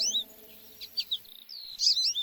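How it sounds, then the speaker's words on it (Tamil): Sparrows chirping in the early morning near a house, a few short bright tweets coming in small bursts, fairly faint and slightly distant over a quiet background. "ஆனா காலையில ஆனதும் குருவியோட சத்தத்தை கேட்டு 2 பேரும் கண் முழிச்சாங்க."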